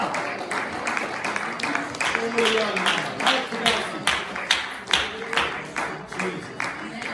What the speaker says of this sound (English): So let us clap our hands and praise the name of the Lord